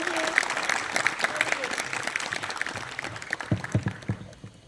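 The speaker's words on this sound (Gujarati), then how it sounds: "ફરી એકવાર એમને તાળીઓના ગડગડાટથી વધાવી દઈશું" Applause from an audience at an Independence Day flag-hoisting ceremony after a young girl's patriotic speech: a dense, steady clatter of clapping that runs throughout, with a voice talking over it at the start and claps thinning toward the end.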